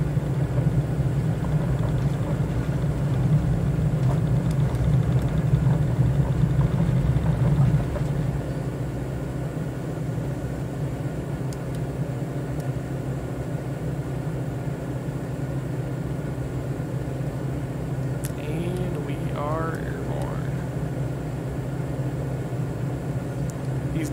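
A Diamond DA40 propeller plane in the MSFS 2020 video game runs its engine at takeoff power, giving a steady loud drone that eases slightly partway through and then holds level without pause.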